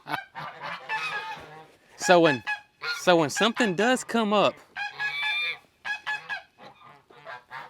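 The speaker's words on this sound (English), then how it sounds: "the geese sound the alarm." A flock of geese honks loudly and repeatedly in an alarm chorus, harsh overlapping calls close to the listener in bursts, with a voice speaking briefly between them.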